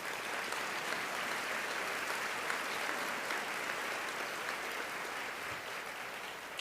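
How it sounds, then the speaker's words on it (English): Steady applause from a crowd, dense and continuous clapping that holds an even level throughout without letting up. "Please give them all a round of applause."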